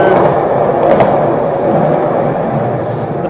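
Skateboard wheels roll along pavement in a steady, close, broadband rumble that holds evenly throughout, with no voices.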